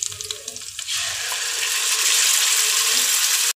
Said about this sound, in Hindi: अब मैं इसमें अपनी प्याज टमाटर की प्योरी ऐड करूँगी